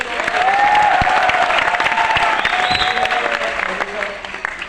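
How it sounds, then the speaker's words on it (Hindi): Loud, dense applause from an audience at a motivational success seminar, sustained evenly for several seconds with a slight fade at the end. "जोरदार तालियां हो"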